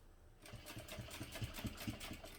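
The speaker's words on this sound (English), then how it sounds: "I'm just top stitching using an 1/8 inch seam allowance" A sewing machine top stitches a clutch bag with an 1/8 inch seam allowance, starting up and running in a quick steady rhythmic whir of stitches, quiet and close.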